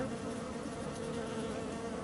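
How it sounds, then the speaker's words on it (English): Bees buzz steadily in the Farming Simulator 25 video game, a continuous droning hum of insect wings at moderate level with no pauses and no voices. "we've got bees."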